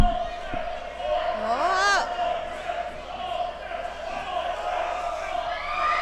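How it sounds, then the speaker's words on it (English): Arena crowd at a wrestling show cheering and roaring through the whole stretch, a broad steady wash of voices with a few louder swells, while a commentator talks over it. "Listen to this crowd."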